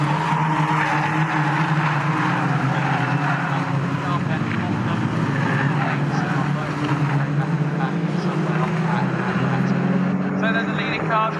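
Caterham Seven 310R race cars thunder along the track at Snetterton in a dense, continuous engine roar that stays loud and close throughout, with a commentator talking over it.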